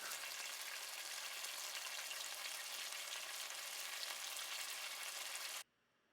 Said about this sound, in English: some sizzle music for you